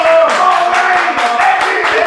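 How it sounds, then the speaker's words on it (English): A studio audience at a battle-rap interview show claps in a steady, evenly spaced rhythm, each crisp clap standing out over a continuous bed of background voices. "Everybody start clapping right now."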